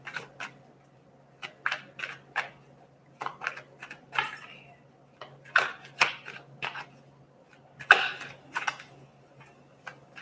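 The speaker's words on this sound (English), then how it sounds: "So let's just cut the deck." A deck of tarot cards being cut and shuffled up close, giving a string of quick, crisp riffling bursts and taps spaced irregularly through a quiet room, with no talking.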